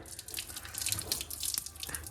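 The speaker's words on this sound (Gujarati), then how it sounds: "આયુષભાઈ હો હજી હાબુએ સરખા હાથ ધોવો" Water runs from a tap and splashes as a child's hands are washed, a fairly faint, uneven trickle and spatter with no talking.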